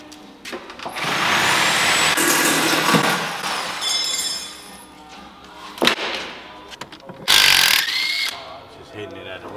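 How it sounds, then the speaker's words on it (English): Sawzall reciprocating saw cutting the steel frame of a 1950 GMC cab-over truck, a loud whining buzz in bursts with pauses and metallic clanks, close by. "Give me the sawzall."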